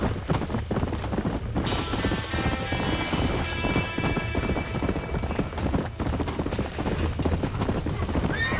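Horses clip-clop and whinny in and around a burning barn in the Red Dead Redemption video game, with steady hoofbeats and a neigh over a dense, continuous layer of game noise and fire ambience.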